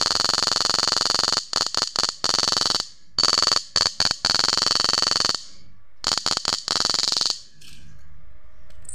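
A loud, high electronic whine from a Susan 735MP power inverter modified with an SG3525 PWM chip, running under load without a buzzer, cuts in and out in uneven bursts, then fades to a faint hum.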